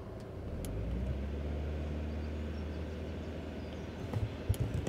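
A 2006 BMW Z4 engine with a variable valve timing fault idles and revs steadily close by, a low constant drone with a few sharper bursts near the end and no talk.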